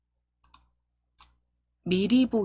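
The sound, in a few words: computer mouse click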